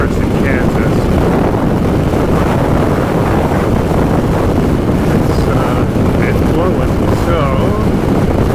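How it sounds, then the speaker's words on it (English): Strong Kansas wind roars and buffets across a microphone while riding a motorcycle on the open road, a loud, steady rush of broadband noise that runs unbroken through the whole stretch. "it has been a battle all day with this wind"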